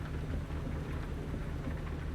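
Steady rain in the American Truck Simulator video game hisses as a dense, even wash of noise with a low rumble underneath, continuous throughout with no voices.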